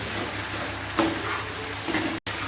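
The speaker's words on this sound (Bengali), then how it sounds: "এর মধ্যে আমি এখন এই আলুগুলো দিয়ে দেব, দিয়ে এখন ফ্রাই করবো, হালকা হিট দিয়ে দেবো।" Cornflour-dusted potatoes for chilli potato fry in a pan over low heat, giving a soft continuous sizzle with a couple of brief stirring scrapes and a momentary dropout near the end.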